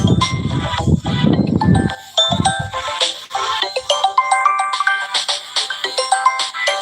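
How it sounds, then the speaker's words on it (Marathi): A brief burst of noise gives way to a melodic phone ringtone, bright electronic notes repeating in a steady pattern, fairly loud and close. "मला एक शेतकरी मित्रांनो फोन येत आहे"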